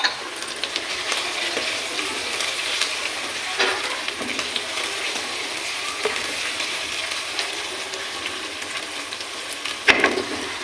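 Slit green chilies fry for chicken karela, hissing and sizzling steadily in hot oil in a pan, with occasional stirring clatter and no talk.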